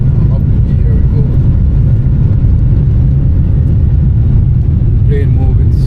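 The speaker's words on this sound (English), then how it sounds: "Plane moving super fast." An airliner roars through its takeoff run, a loud, steady broadband engine rush heard from inside the cabin with no break.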